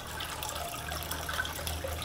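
Water flowing in a thin sheet over a gold dust concentrating table, a continuous moderate rushing wash with a low steady hum beneath, no speech.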